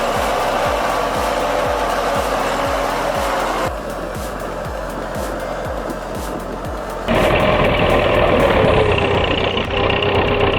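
Articulated logging truck with a full load churning through icy slurry, a loud steady engine drone with rhythmic knocking pulses and a rougher, louder roar toward the end.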